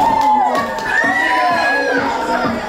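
Children at a party held in a children's hospital shout chants together, loud and close, with rising and falling voices in bursts over a busy crowd.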